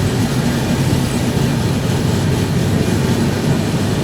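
A passenger train running from Alipurduar to Sealdah rolls steadily on the rails, a constant loud low rumble with faint rail clatter and no pauses.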